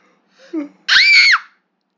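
A sharp, high scream in a Roblox horror game bursts out loud for about half a second, right after a short low vocal sound.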